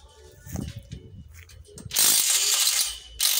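A ratchet clicks in quick bursts while undoing bolts and nuts on hydroponic pipes at a lettuce and sweet pepper farm. The rattling is close and loud, with a long run and then a second short burst after quieter handling noises.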